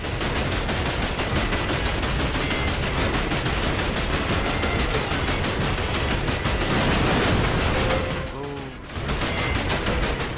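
Continuous rapid gunfire from an enemy gun in Wolf of the Battlefield: Commando 3, a dense loud barrage that runs nearly throughout before a brief dip near the end, with a voice talking underneath.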